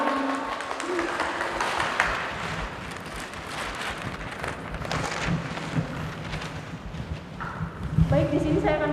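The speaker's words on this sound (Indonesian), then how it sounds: "Tepuk tangan." A group in a classroom or seminar on religious moderation claps together, a dense patter of applause at moderate distance that thins out, with voices and shuffling audible underneath.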